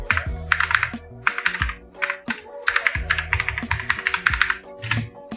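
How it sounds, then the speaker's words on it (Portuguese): Computer keyboard keys tapped in quick, uneven bursts while entering a command on a Linux Mint machine, close and clear, with brief pauses between flurries of clicks and no talking. "Então eu vou digitar o comando aqui."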